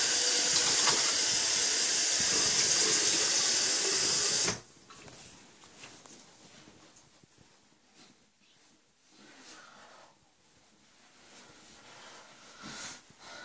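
Tap water runs in a steady, loud rush for about four and a half seconds while someone rinses their face after a shave, then stops and leaves only faint splashing and small movements.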